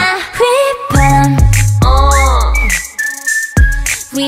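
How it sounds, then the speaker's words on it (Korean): A whistled melody from a K-pop song, with bright sliding whistle lines over heavy bass beats and synth, played loud and clear with no talking. "휘파람 Can you hear that?"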